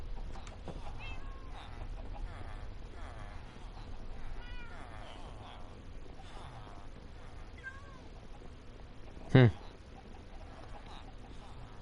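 Repeated cat meows from a cat in a PS4 Minecraft survival game, soft and spaced out over a quiet ambient background, with a sharp thump near the end; someone talks at points.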